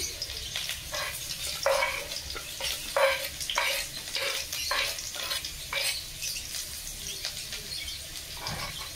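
Three large chopped onions frying in a pan, a steady crackling sizzle broken by brief clattering stirs, close and fairly loud, with no voices.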